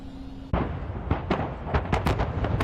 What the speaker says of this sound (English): The continual explosion sounded like a 4th of July grand finale